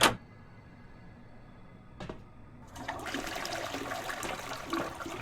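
Running water in the video game Encased, heard as a faint trickle that follows a short clunk, then swells into a steady rushing flow like a toilet flushing or a tap left open.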